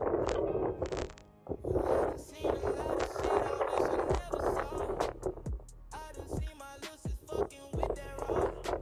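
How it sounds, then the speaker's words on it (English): Gusty wind buffets the microphone in heavy, rumbling bursts, with voices talking in between the gusts. "Whatever going on, it's windy as hell."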